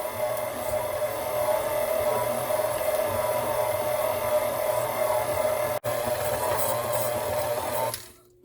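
Stand mixer kneading bagel dough for New York style bagels, a steady motor whir with a rhythmic mechanical churn running continuously, then cutting off abruptly near the end.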